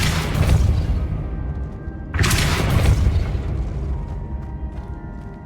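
In Hogwarts Legacy a Depulso spell lands as a heavy booming blast. A second strong burst hits about two seconds later, and both trail off into a rumbling decay.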